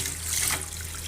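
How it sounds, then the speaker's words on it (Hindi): Water runs steadily from a tap while rice is rubbed and rinsed for biryani, a short, close splashing stream with no talk. "चावल बहुत अच्छे तरीके से मल के धो लेंगे।"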